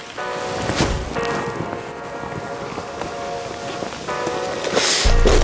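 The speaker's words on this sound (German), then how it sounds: "Dieser Regen, der ist ganz schlimm." Rain pours steadily during a bank fishing competition, a dense close hiss of falling drops that carries on throughout and grows stronger toward the end.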